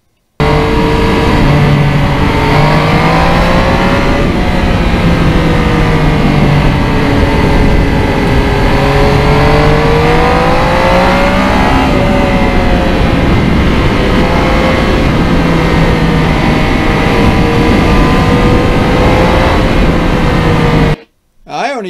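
A 2020 Yamaha MT-09 crossplane triple motorcycle engine on an open country road, loud and close, with several rising and falling pitch sweeps through the gears, wind rush running continuously beneath, ending abruptly.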